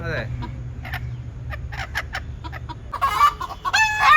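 Several native Kerala country chickens cluck in short, scattered bursts close by while pecking around outside their coop, growing busier and louder toward the end, with a low background hum.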